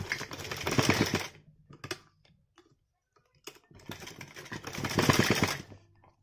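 A sewing machine stitching fabric for a cross hair band, running in two rapid bursts of about a second each with a quiet pause between them, close and clear.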